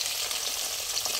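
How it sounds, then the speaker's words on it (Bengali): Paneer pieces lightly sprinkled with salt fry in hot white oil in a wok, giving a steady, close, loud hiss of sizzling that runs unbroken throughout with no talk. "এবারে পনিরগুলো দিয়ে পনিরের উপর দিয়ে একটু নুন হালকা ছড়িয়ে দিয়ে ভেজে নেবো"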